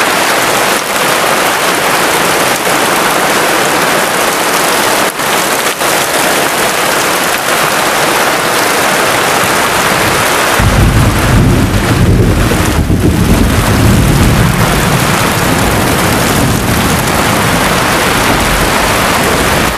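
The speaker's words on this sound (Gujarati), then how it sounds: "જોરદાર વરસાદ આવી ગયો" Heavy monsoon downpour over a village, a loud continuous roar of rain and wind buffeting the microphone, deepening midway into a low rumble like thunder.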